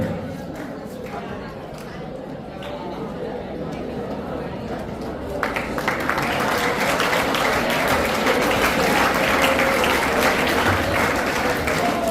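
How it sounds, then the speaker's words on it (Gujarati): An audience at a farewell function applauds, beginning as a low murmur of clapping that grows into loud, sustained applause partway through, with voices mixed in. "ફરી એકવાર તાળીઓના ગડગડાટથી તેમને વધાવીએ."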